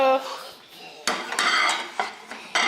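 Ceramic soup plates and dessert plates clink and knock together in several sharp, close contacts, a ringing tone trailing from the first one.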